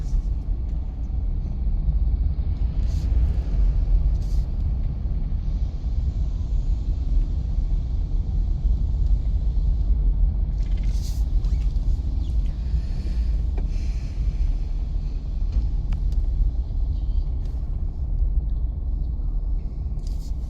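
Car engine idling and pulling away during a driving lesson in traffic, a steady low rumble running throughout with faint higher hiss and occasional passing noises, no talk heard.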